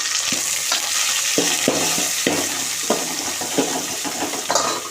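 Onions and curry leaves frying in hot oil with spluttering mustard seeds, a steady loud sizzle broken by repeated stirring scrapes and pops in a home kitchen.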